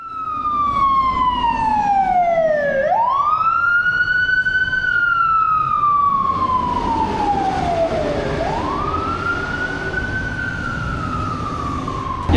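A fire truck siren wails loudly and continuously nearby, its pitch sweeping down and back up in slow cycles over steady vehicle rumble, with no talk, heard in the GT game setting.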